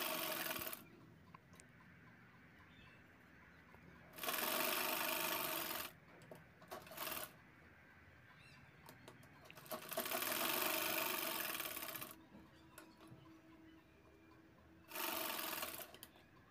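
A sewing machine stitches handbag pieces together in pairs, running in several bursts of steady mechanical whirring a few seconds long, separated by quieter pauses with faint handling sounds.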